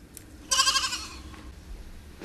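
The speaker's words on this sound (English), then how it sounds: "Take the goat with you." A single goat lets out a loud, wavering bleat lasting about half a second, close by, over faint background noise.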